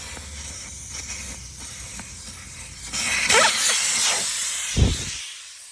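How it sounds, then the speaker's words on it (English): Air hissing out of a vehicle tire through a valve with the core removed, a steady breathy hiss that swells louder midway, then ends in a short thump and cuts off. "let the air out of them tires and break them down"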